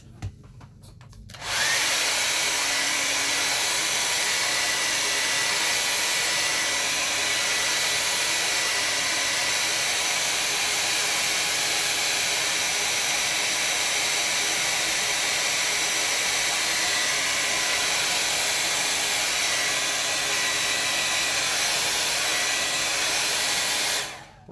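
A hair dryer runs steadily and loudly for over twenty seconds, drying watercolor paint on Bockingford blue tinted paper, switching on after a short pause and holding a constant whooshing drone until it cuts off at the end.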